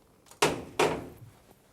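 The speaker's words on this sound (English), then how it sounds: "you can't open the next door until this one is shut" The heavy door of a nuclear command post shuts in two loud, close metallic thunks a fraction of a second apart, each ringing briefly before fading into quiet.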